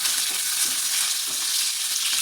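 Curry leaves sauté in hot oil for an aloo paratha filling, giving a steady, close, bright sizzle that holds evenly throughout with no voices.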